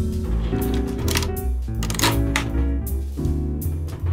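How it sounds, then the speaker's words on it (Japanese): A Nikon F2 film camera is worked at a slow shutter speed. A series of crisp mechanical clicks and winding-lever ratchets sound close up, with the shutter opening and then closing after a clear gap. No voice is heard. "シャッター速度が遅いとシャッターの開く時間が非常に長いです。"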